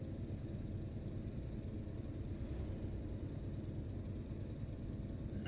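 Heavy truck engine in Euro Truck Simulator 2 drones steadily with a low, continuous rumble, even and unbroken throughout, with no voices over it.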